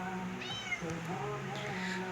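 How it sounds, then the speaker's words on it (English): A pet cat meows several times in a drawn-out, wavering way, close by indoors over a steady background hum, with no clear talking. "that's her pet cat, Max."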